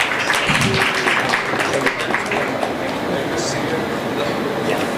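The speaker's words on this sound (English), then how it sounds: "A round of applause, ladies and gentlemen." Audience applause at a medtech conference panel introduction, a steady dense wash of clapping filling the room throughout, with a voice speaking over it.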